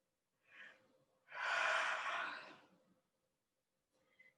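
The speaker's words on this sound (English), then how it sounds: "Big deep breaths all the way in down to the belly." A slow, deep inhale and exhale during a gentle yin yoga session, with a short breath, then a long airy whoosh lasting over a second, then silence and a faint final breath, close and quiet.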